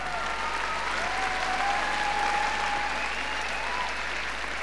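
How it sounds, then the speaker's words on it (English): An arena audience at the 1993 European figure skating championships applauds in a steady, dense wash of clapping that carries on at an even level throughout, with faint tones ringing above the crowd. "A nice warm round of applause for the British champions"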